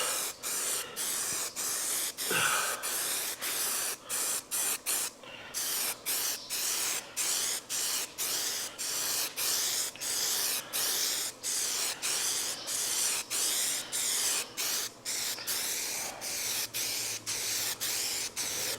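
Spray paint or coating hisses onto a car body in a barn-find Corvette restoration, laid on in steady close bursts separated by short pauses as successive coats go on, with no voices.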